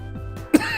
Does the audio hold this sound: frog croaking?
no